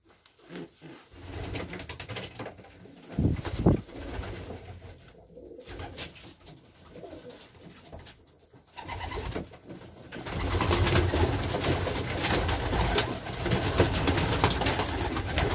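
Domestic racing pigeons coo in a loft, with repeated low throaty calls from several birds over scuffling and rustling, the chorus growing denser and louder toward the end.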